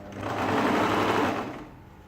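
Sewing machine stitching a ladies' shirt dress, a steady close whirring run that swells and then slows toward the end.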